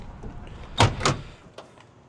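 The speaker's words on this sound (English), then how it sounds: "All right, these doors open really well." Door of a 1972 Chevy K20 Cheyenne truck opening: a close, solid latch click followed by a second clunk as the big heavy door swings, then a faint softer knock, with no talking.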